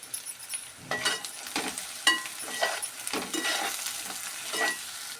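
Food frying in a pan for an egg and tomato curry, with turmeric and salt added, producing steady sizzling and repeated scraping stirs, close and fairly loud.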